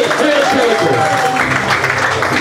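Applause at a Pongal victory celebration in Goa as an award winner from the Odisha branch is called up: a dense, steady wash of clapping runs throughout, mixed with voices and crowd murmur.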